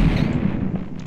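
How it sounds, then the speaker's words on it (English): A cherry bomb explodes in the Stardew Valley farming game, a short low boom that hits at once and rumbles briefly before trailing off. "we're gonna have to cherry bomb."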